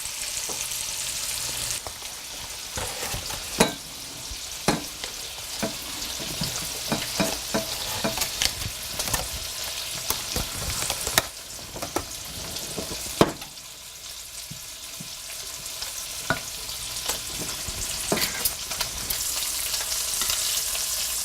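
Food frying in a pan with a continuous sizzle, scattered clinks and scrapes of stirring throughout, fairly close and steady.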